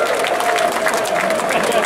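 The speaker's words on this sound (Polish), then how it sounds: "Jeszcze większe brawa dla kibiców" Loud crowd applause and cheering for the fans at a promotion celebration after Odra Opole played Polonia Bytom, rapid dense clapping throughout, with voices shouting in the mix.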